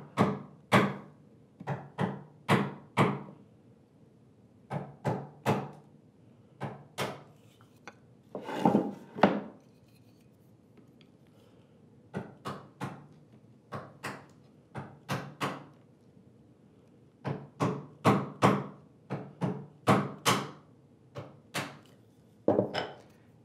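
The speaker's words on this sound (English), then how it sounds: "Choked up on the chisel so I didn't hit the bench top." A chisel is struck into wood on a workbench top while a drawer is being made: clusters of sharp, close knocks repeat with short pauses in a quiet workshop.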